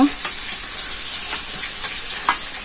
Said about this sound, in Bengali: আলু বাজা হয়ে গেছে